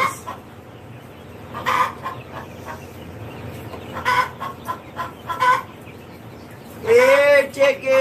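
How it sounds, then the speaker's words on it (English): Backyard chickens cluck in scattered short bursts, close by, and a loud crow-like squawk ends the stretch over low outdoor background. "Chickens!"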